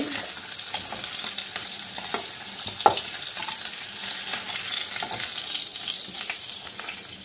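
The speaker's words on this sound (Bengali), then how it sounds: "এই দেখো মাছগুলো, আমি পরেরগুলো দিয়ে দিই" Fish fries in hot oil in a pan, a steady loud sizzle with crackling bursts and one sharp clack of a utensil partway through.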